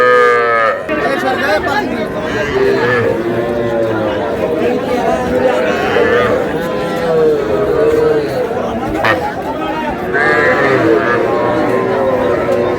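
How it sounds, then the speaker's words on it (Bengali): At a crowded cattle market, young bull calves give a few moos and bleating calls partly buried under heavy chatter and nearby voices talking throughout. "এখানে একটা ষাঁড় বাচ্চা"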